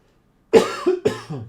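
Two harsh coughs close together after a moment of silence, near and fairly loud, with no talking.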